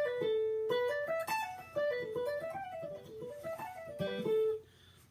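An electric guitar runs a quick legato pentatonic lick, with smoothly connected notes rising and falling over about five seconds, close and alone before fading out.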